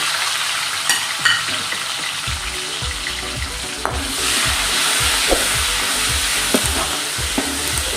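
Garlic, onion and tomato sizzling and frying in a pan for chicken chow mein, constant close hiss broken by repeated stirring scrapes and knocks.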